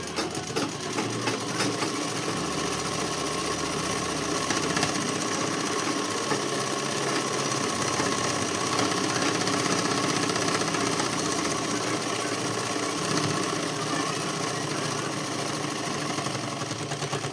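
A sewing machine runs continuously while stitching along the edge of a dress, its fast, even mechanical chatter loud and close, with a brief change in speed partway through and no speech.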